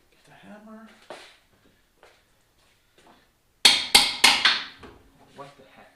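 Three sharp hammer taps ring out on metal parts of a 5.3 LS V8 engine in quick succession, following a few quiet spoken words.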